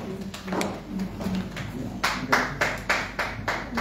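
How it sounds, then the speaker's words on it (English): A crowd applauding, hands clapping in a scattered rhythm that grows sharper toward the end, with some voices blended underneath. "Can we keep clapping on the phone?"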